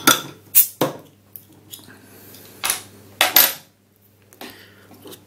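An old Vimto bottle opener works the cap off a small San Miguel beer bottle, giving a handful of sharp metallic clinks and clacks spaced out over a few seconds, close and otherwise quiet.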